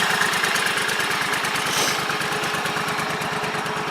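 A John Deere 345 lawn tractor fitted with Terra-Grip chains runs steadily nearby, its engine giving a continuous, even, rapidly pulsing drone throughout with no talk.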